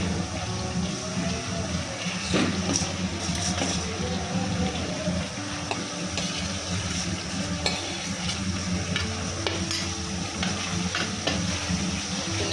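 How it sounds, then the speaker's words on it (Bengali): Paneer fries with greens in a pan for a curd paneer dish, a close, continuous broadband sizzle with occasional stirring scrapes and clinks and no speech. "আমি এখন পনিরটা দিয়ে দেবো"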